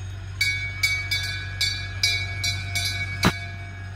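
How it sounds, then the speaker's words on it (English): Train stuck on a hill with its wheels spinning: a steady low rumble with repeated sharp metallic clanks at irregular intervals, close and fairly loud. "Oh yeah, it's stuck. Wheels are spinning again. It's not going to make it up the hill."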